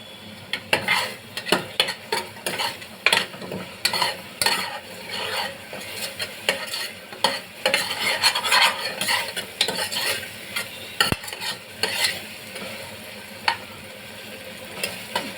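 Spices with fennel seeds and turmeric roast in a pan for a dal tadka, with a spoon scraping and stirring in repeated strokes over a soft, steady sizzle, close and with no talking.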